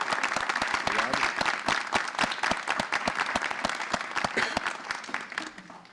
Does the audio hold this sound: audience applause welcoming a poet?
yes